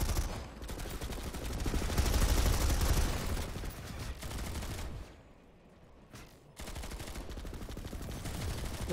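Rapid gunfire bursts in a competitive first-person shooter match, dense overlapping shots that swell loud, drop briefly to a lull, then resume.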